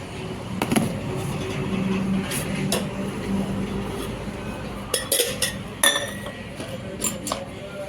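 Masala soda in a glass stirred with a fork-spoon, bright scattered clinks of metal against glass over a low background rumble, bunched into quick bursts in the second half.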